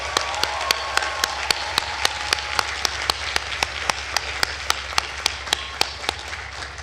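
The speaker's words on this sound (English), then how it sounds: "please join me in a round of applause for these award-winning students" Steady, dense applause from a commencement audience honoring award-winning Natural Sciences students, with a few sharper individual claps popping out at a regular beat over the crowd's continuous clapping, no talking.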